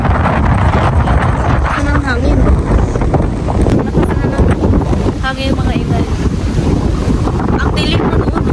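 Strong wind blows by the sea from a boat, loud rushing gusts buffeting the microphone, with people talking over it.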